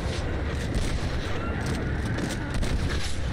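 Dense, continuous gunfire and explosive booms from a Red Dead Redemption battle against the Mexican army, loud and steady throughout with no clear gaps between shots.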